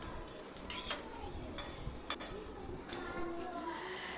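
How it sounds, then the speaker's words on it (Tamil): Milk stirred continuously in a steel cooking pot while making cashew payasam, a soft scraping swirl with a few sharp clinks of spoon against metal, under light background kitchen noise. "நம்ம சில்வர் பாத்திரத்தில் பால் சேர்த்துருக்குறோம். நம்ம கை எடுக்காமல் கலந்து விட்டுக்கிட்டே இருக்கணும்"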